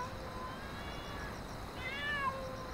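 A cat meows twice in a quiet late-night indoor scene, the second call louder and drawn out with a rising then falling pitch, over faint background hiss.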